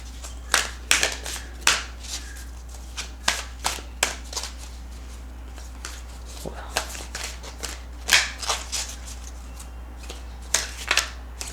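A new deck of oracle cards shuffled by hand, repeated crisp riffling and slapping bursts in an uneven rhythm, close and fairly loud.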